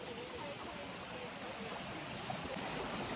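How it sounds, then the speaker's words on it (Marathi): Water rushing and gurgling in a continuous, even flow, like a small stream nearby, fairly soft throughout. "किती सुंदर बघा पाणी वाहते"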